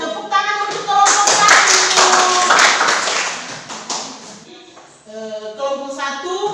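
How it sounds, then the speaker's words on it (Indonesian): Group of people clapping for a class presentation in a classroom, a dense burst of claps that fades, with voices and other sounds toward the end. "tepuk tangan untuk kelompok"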